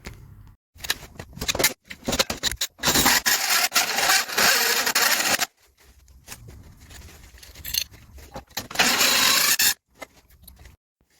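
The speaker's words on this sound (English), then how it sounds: "Just been trying to drill that out." Loud grinding power-drill bursts with a big new hole saw, two long runs with shorter stuttering starts between them, a rough whirring bite of the cutter chewing through material while fitting intercooler pipes on a Citroën Saxo VTS Turbo.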